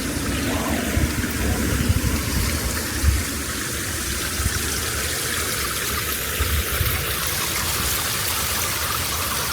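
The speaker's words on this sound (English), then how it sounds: "it has a small waterfall off the back of the pool area" A small waterfall at the back of a hotel pool in Icmeler, Marmaris, Turkey pours steadily into the water, giving a constant close splashing rush with no voices over it.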